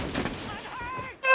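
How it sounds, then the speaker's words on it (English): A single sharp sniper shot rings out in an online shooter video game, brief and moderately loud, followed by a short fading tail. "I keep getting sniped"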